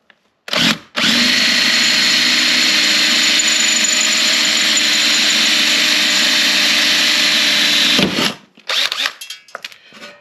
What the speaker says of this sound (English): we'll go ahead and drill her out